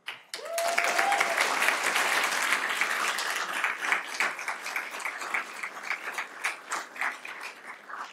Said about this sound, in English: Let's give her a round of applause again, folks.